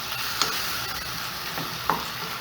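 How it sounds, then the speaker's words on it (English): Oxtails are stirred in a hot pot, giving a loud, steady sizzle close up, with two distinct scraping clinks of the spoon against the pot and no voices. "I'm going to mix this up again."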